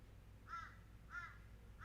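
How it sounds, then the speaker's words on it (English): Crows cawing outdoors at some distance, three short harsh caws spaced about evenly, faint over a low background hum. "But you can mostly hear crows."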